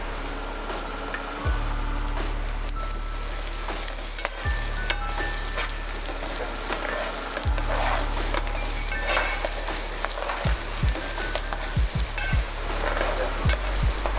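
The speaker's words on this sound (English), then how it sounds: "let the onions fry into a golden brown in color. Add the sliced green chilies and let it fry" Onions and sliced green chilies fry in oil in a pan over a medium flame, a constant close sizzle punctuated by occasional knocks and scrapes of a spoon, with no one speaking.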